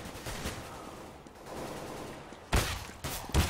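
Counter-Strike gunfire crackles in short bursts, muffled early on and then sharp, loud volleys near the end, with no talk.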